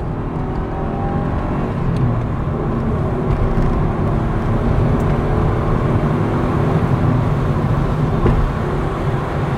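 A Mazda MX3 with a small V6 engine drones steadily while driving, a continuous muffled cabin rumble with road and wind noise at an even level throughout, no voices.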